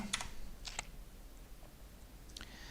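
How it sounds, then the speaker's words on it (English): Quiet typing on a computer keyboard, a few sparse clusters of soft key clicks close by in a calm room with no talking. "And then we're typing in once more."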